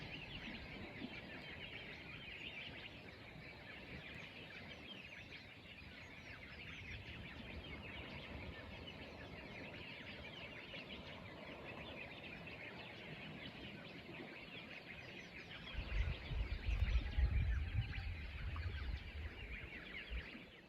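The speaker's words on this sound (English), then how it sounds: "I want to see if I can record the dawn chorus, because there are lots of birds singing" Birds sing a dawn chorus over a quiet anchorage in a Fiji bay. Soft, continuous chirping and calls layer together at a distance, and a low rumble swells near the end.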